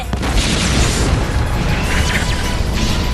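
A booming anime cannon blast, the Kurogane cannon attack, fills the whole stretch with a loud, dense roar and crashing low rumble, with no voices over it.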